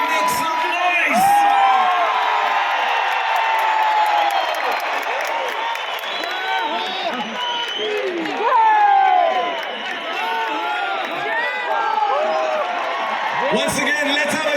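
A large stadium crowd at a concert in Guwahati cheers and whoops continuously, with applause and excited shouting rising and falling throughout.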